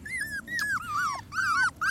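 Labrador puppies whimper outside in the cold, a run of high, wavering whines and yelps close by, coming in bursts with short pauses between them.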